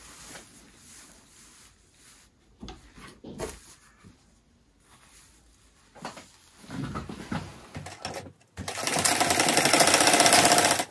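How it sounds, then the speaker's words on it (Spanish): A sewing machine stitches sweater fabric, with quiet handling knocks and fabric shuffling before the motor starts, then a loud, steady rapid whirring run near the end. "vamos a coser por este lado de aquí"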